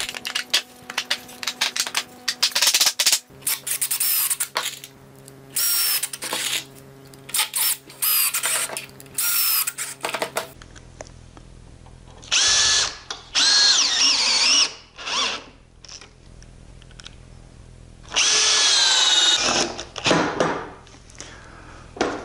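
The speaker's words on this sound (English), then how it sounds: "driving the last of those screws pretty well finishes the assembly of this loft ladder" Power drill driving the final screws into a lacquered wooden loft ladder, heard as repeated loud, close bursts of whirring motor, each lasting a second or two, separated by short pauses.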